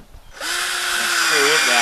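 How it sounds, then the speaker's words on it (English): A power drill drives screws into plywood scraps for a pallet hog house, starting up after a brief quiet moment and whining loudly and steadily up close, its pitch shifting slightly as the screw bites. "And I'm just gonna screw them down in here."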